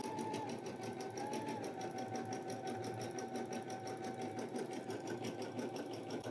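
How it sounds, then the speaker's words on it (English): A Brother Skitch PP1 embroidery machine stitches a heart design, giving a steady, fast mechanical whirr and needle chatter that runs continuously at close range with no talking over it. "now it's doing the second heart here. I mean, it's embroidering. I'll give it that. It's embroidering, that's for sure."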